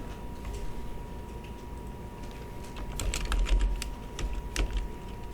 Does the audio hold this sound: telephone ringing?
no